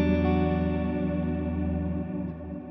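A guitar played through a pedalboard with delay and reverb effects rings out as one sustained, richly layered chord that slowly decays, smooth and steady, with no voices.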